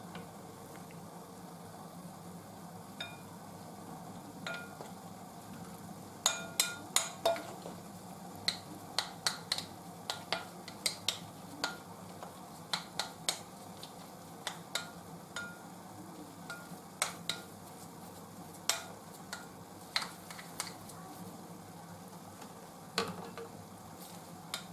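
A spoon or hand works freshly boiled water into dough for a Bosnian-style dessert with a Moroccan touch, giving a steady run of faint, irregular clicks, taps and wet stirring noises over a low, quiet background.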